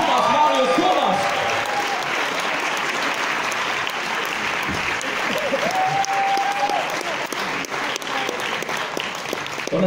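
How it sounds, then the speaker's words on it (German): Concert audience applauds a live band at a premiere show, sustained loud clapping with a few cheers that fills the whole stretch as someone talks over it. "Applaus für die Band."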